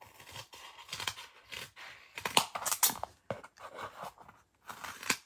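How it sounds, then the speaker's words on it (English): Scissors cut a piece of paper for a floral card, a close series of crisp snips and rustling crunches in an uneven rhythm, with no talking. "And so I am just going to cut my piece."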